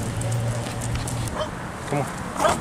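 Dogs give a few short, scattered barks at moderate distance over a low background hum in a neighborhood in Watts, California.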